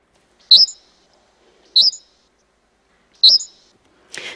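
Birdsong played at normal speed: three short, sharp high chirps spaced evenly about a second and a half apart against silence, followed by a brief softer rustle.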